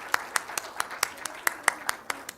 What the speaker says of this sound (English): Big round of applause for our 4 people